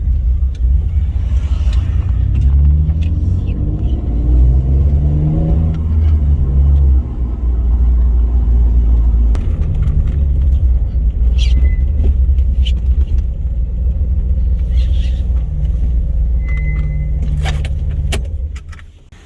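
A high-mileage Alfa Romeo GTV drives along with a steady low engine hum and road rumble from inside the cabin, shifting pitch once partway through, with faint rattles and no talking.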